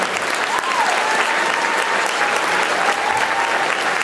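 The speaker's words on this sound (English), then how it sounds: "one more round of applause for everyone who's here" Loud, sustained applause from a live audience at a comedy quiz show, a thick wall of clapping from a packed room with faint cheers and whoops mixed in.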